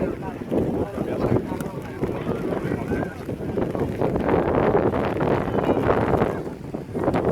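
Gusty wind roars and buffets the microphone outdoors at a youth football match, a steady broadband rumble with people talking over it.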